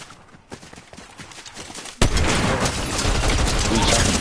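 Fortnite gunfire in a sudden dense burst of shots that starts partway through and keeps going loud and steady to the end, with quieter game noise before it and people talking over the action.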